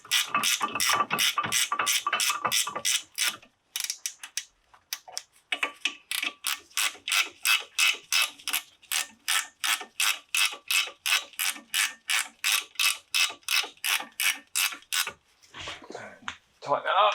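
A ratchet wrench tightens brake caliper bolts on a 2014 Ford Focus during a front pad and disc job, producing fast, loud, evenly spaced clicking strokes close by, with a short pause partway and slower clicks near the end.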